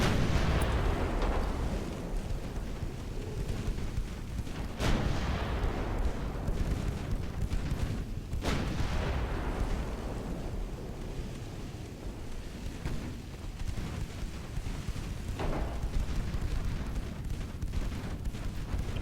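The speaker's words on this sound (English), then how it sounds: "There's some incoming fire right along here, so there's, yeah, there's gunfire coming from back in this direction." Naval artillery fire in the warship battle game Ultimate Admiral: Dreadnoughts, with a continuous low rumble of distant gunfire and sharp booming shots near 5 and 8.5 seconds, plus another around 15.5 seconds.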